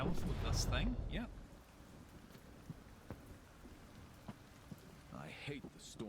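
Rain patters steadily in the dark, stormy Sancticide game world, a low, continuous wash of drops with scattered sharper ticks. A voice talks over it at the start and again near the end.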